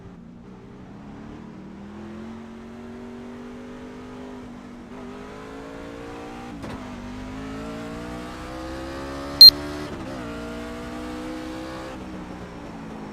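A C-class race car laps the half-mile Myrtle Beach oval in the iRacing sim, its engine droning steadily and slowly rising in pitch as it accelerates, with a brief sharp click partway through and no talking.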